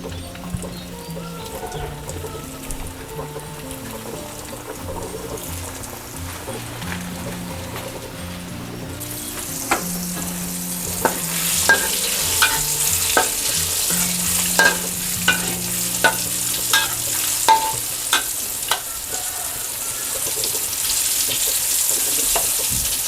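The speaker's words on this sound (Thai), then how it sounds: "แล้วให้เราใช้ไฟอ่อนในการทอดค่ะใส่ลงไปเลยค่ะ" Salmon fries in a thin coating of oil over low heat, a steady soft sizzle that brightens partway through, with scattered clicks and scrapes of stirring in the pan, close by and without talk.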